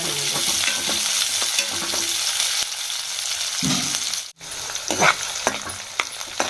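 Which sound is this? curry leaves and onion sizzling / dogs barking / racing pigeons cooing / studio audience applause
curry leaves and onion sizzling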